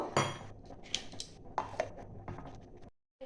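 A metal wok is set down on a stove with a clank, followed by a few lighter scrapes and knocks of cookware, quiet and close.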